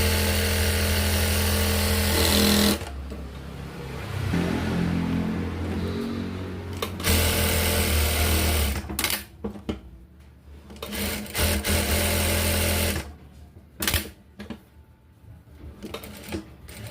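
A sewing machine is tested, with a loud rapid mechanical whir for a few seconds. Then come shorter bursts of stitching separated by pauses and clicks, and it ends in stop-start runs.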